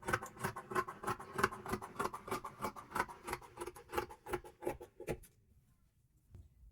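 Scissors cutting fabric for an agbada kimono, a quick run of crisp snipping and rustling strokes in steady rhythm, close and quiet, stopping abruptly near the end and leaving near silence.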